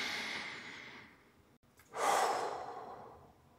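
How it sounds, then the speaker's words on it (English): A slow, deep breath drawn in and then let out as a long audible sigh, close and alone, with a short pause between the inhale and the exhale. "Just take a deep breath."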